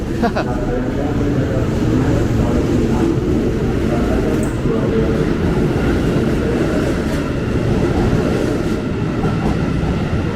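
A ten-car KRL commuter train for Tangerang pulls out of platform 5 at Duri station with a steady, loud rumble and rolling rail noise throughout, a voice talking over it.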